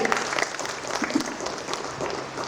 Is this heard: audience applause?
yes